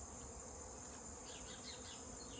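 Honey bees buzz in an apiary around the hives, a steady dense hum that holds without pause, with a few louder, closer passes rising briefly above it.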